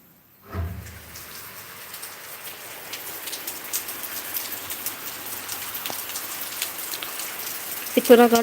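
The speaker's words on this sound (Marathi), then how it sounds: "आमच्याकडे पाऊस खूप पडतोय दाखवते तुम्हाला" Steady rain pours down and patters on surfaces, growing denser after a soft thump at the start, with a few louder splashes near the end.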